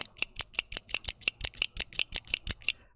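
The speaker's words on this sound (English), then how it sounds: "All I need is this, and it goes click, click." A single handheld fidget key, a loose switch without a keyboard, clicks about fifteen times in a quick, even rhythm. Each click is crisp, close and moderately loud, with no voices.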